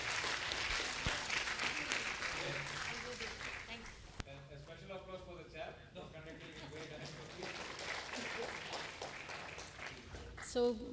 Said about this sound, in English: Can we have a round of applause for the speakers on stage